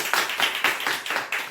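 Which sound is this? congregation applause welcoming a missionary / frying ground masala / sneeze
congregation applause welcoming a missionary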